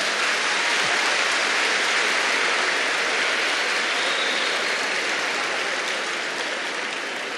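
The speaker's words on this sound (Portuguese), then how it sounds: "eu não sei o que é que vocês estão aplaudindo" A lecture audience at a youth festival opening bursts into sustained applause, a dense wash of many hands clapping at once, loud and continuous throughout before tapering slightly at the end.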